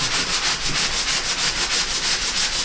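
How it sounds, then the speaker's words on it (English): Rhythmic back-and-forth scraping of sandpaper across drywall joint compound, quick even strokes repeating steadily, close and fairly loud. "Anyway, I'm about to start sanding."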